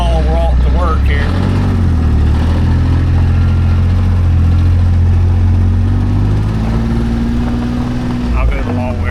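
A vehicle engine runs steadily at low revs during a slow, short drive at a sawmill, with a continuous rumble throughout and a small shift in pitch as it moves along.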